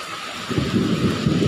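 Heavy rain pours steadily, building in density after the first half second into a dense, close wash of drops with a low rumble that could be distant thunder; no voices.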